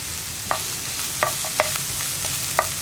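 A pan of cauliflower and carrot thoran with turmeric is stirred, the spoon scraping in several sharp, separate clicks over a soft, steady sizzle, with no one talking.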